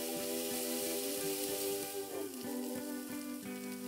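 Sliced onions with curry leaves and salt sizzle steadily in a hot pan, with a bright frying hiss throughout and soft periodic scrapes and taps from stirring.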